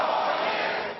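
A large crowd at a political rally in Michigan chants in unison, a dense roaring swell of many voices that holds steady for a moment and then begins to fade.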